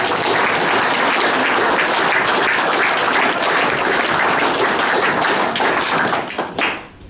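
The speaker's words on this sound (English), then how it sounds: "we should just give them a big round of applause" An audience at a cricket club's 150th anniversary event gives a big round of applause for guest speakers, dense sustained clapping filling the room for several seconds before tapering off at the end.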